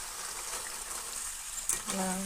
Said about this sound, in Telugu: ఇలా వేసుకున్న తర్వాత ఇవి గోల్డ్ కలర్లోకి వచ్చేంత వరకు ఫ్రై చేసుకోవాలి